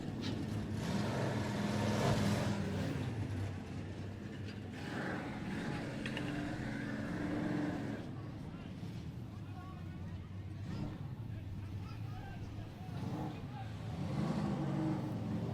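Race cars run on a track, their engines a steady, rumbling drone that swells and fades as they pass, with voices talking over the noise throughout.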